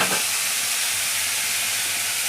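Dosa cooking on a hot pan with onions frying, a continuous close, loud sizzle and hiss with no talk over it.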